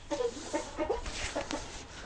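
Broody hens cluck in quick, short bursts over a steady background hum, fairly close and moderately loud.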